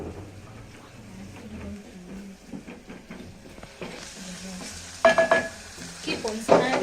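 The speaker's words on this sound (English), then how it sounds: "Keep on stirring." Quiet sizzle and scraping of biryani being stirred as it fries in oil in a pot, with louder clattering stirring strokes near the end and a voice talking faintly in the background.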